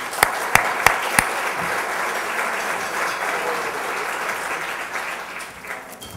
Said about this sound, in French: Bonne main d'applaudissements, s'il vous plaît.